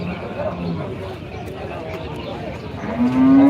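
Large dairy cows at a cattle market low amid the crowd's background noise, with a drawn-out nearby moo rising near the end while someone talks throughout.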